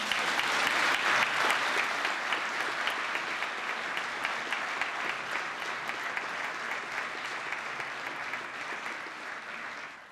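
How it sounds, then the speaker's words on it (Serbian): Sustained applause from an audience at the Karić Brothers Award ceremony in 2016, dense clapping that stays steady and loud throughout and tapers slightly at the end. "Traj aplauz."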